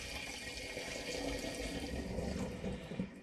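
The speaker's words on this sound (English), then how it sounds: "it's time to pour this back into the initial demijohn with some finings B" Thick chocolate porter pouring back into a glass demijohn with finings, a steady continuous liquid rush and gurgle, close and fairly loud throughout, with no talk.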